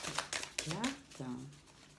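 Oracle cards are shuffled by hand in several quick papery riffles while a voice speaks over them.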